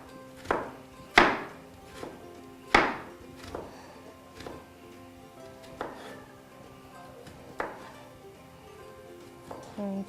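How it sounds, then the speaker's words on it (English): A knife finely chops stacked sliced vegetables on a board in a Pakistani cooking-show kitchen, with sharp irregular strikes, a few loud and the rest lighter, spaced through the stretch. "now hold them together and do very fine chopping"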